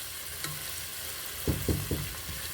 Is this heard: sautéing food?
yes